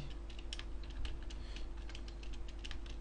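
Rapid typing of Java code on a computer keyboard, steady clustered key clicks at close range over a constant low electrical hum, with no talking.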